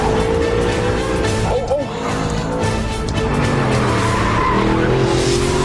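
An Audi R8 is driven hard, its engine revving loudly with shifting pitch as the tyres squeal and skid through a corner, and a voice talks over the noise.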